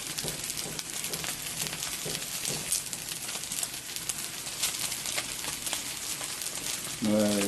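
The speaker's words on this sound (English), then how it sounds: "I'm gonna sear it for about 4 minutes, and I'm gonna flip it over" Meat searing steadily in a hot pan, a dense continuous sizzle and crackle that stays close and even throughout, with a brief low tone near the end.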